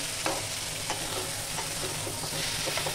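Vegetables with tomato, dried chilli and coriander powder frying for sambar, giving a dense, even sizzle with soft spatula stirs and light scrapes, close and continuous.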